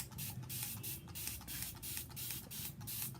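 Water sprayed onto a silk screen used for chalk stencilling, a series of rhythmic pump-spray bursts in quick succession, close and fairly steady.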